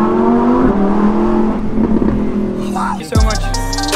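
A 640-horsepower Evo sports car accelerates hard, its engine note rising through the gears with a loud, close roar. A sharp shift or burst comes near the end.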